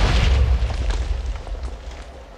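A Minecraft cannon fires and explodes in a blocky survival game: a loud, rumbling low boom with a crackling burst at the start that slowly decays over a couple of seconds, with no voices.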